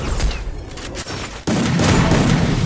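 Dense rattling gunfire in the Free Fire battle royale game, a sustained loud fusillade that drops briefly then resumes stronger, with heavy low thumps and no talking.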